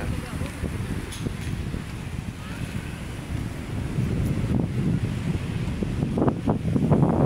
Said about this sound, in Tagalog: Grabe lakas ng alon, ang lupit.